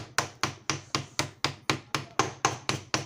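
Hammer blows on the transformer core of a Stranger 701 amplifier during repair, about eleven sharp metallic-wooden knocks in steady rhythm, close and loud, no talk.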